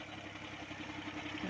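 A tractor engine runs steadily at a distance in a cotton field while fertilizer is being spread, a faint, continuous low rumble with no other sound over it.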